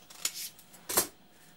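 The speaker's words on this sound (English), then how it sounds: "So with a pair of scissors, you can take a little strip of that, cut it like so" Scissors snip through a thin strip of sandpaper in two quick, crisp cuts, quiet and close with a short pause between them.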